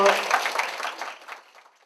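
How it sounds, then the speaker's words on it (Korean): An audience applauds at a Korean election-promotion talk show, with a burst of dense clapping that starts loud and gradually thins and fades out over about two seconds. "박수 부탁드리겠습니다."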